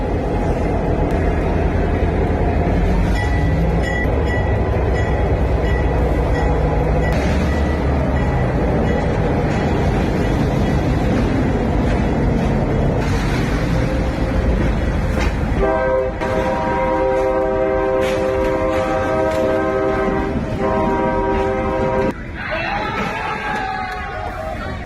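A train rolls loudly and steadily past a railway crossing where cars are waiting, its horn blaring in sustained tones toward the end over the constant rumble of the wagons.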